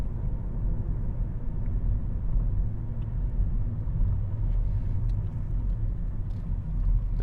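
Harley motorcycles passing on a road, a deep continuous engine rumble heard from a moderate distance, steady and low throughout.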